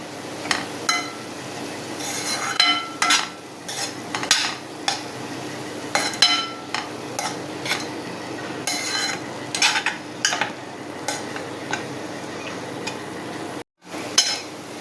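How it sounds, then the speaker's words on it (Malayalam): Spinach thoran with crushed coconut stirred in a pan, with irregular scraping and tapping of a spoon against the metal, close and fairly quiet over a faint background, with a brief pause near the end. "ഇനി നന്നായി മിക്സ് ചെയ്തെടുക്കുക"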